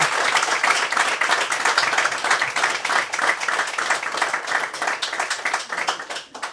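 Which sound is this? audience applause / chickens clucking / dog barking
audience applause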